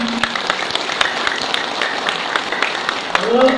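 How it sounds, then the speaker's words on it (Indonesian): An audience claps during a performance tied to a Balinese ancestral journey, the applause steady and fairly close with scattered distinct claps, voices faintly audible underneath. "tepuk tangan tepuk tangan"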